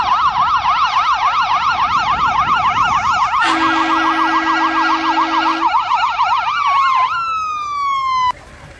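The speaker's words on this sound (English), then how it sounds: "Next unit is Medevac Ambulance." A medevac ambulance at a community day parade blasts a loud, close electronic yelp siren, rapidly warbling, with a steady tone joining midway, then sweeping down and cutting off.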